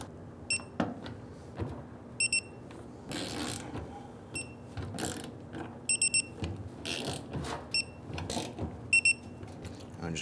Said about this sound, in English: Now we're going to go ahead and torque these down to 89 inch-pounds